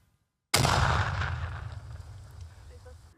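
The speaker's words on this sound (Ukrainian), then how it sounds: "сапери, які працюють разом з групою, підривають знайдену у полі вибухівку" A single heavy explosion as sappers detonate explosives found in a field bursts after a moment of quiet, then a long rumbling roar slowly fades away.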